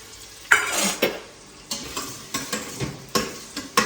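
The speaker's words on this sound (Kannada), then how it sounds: "ಚೆನ್ನಾಗಿ ಈರುಳ್ಳಿ ಎಣ್ಣೆ ಮತ್ತು ತುಪ್ಪದಲ್ಲಿ ಫ್ರೈ ಆಗಲಿ." Sliced onion fries in oil and ghee in a pan, a soft sizzle under repeated scraping stirs of a utensil striking the pan at an uneven rhythm, close and clear without speech.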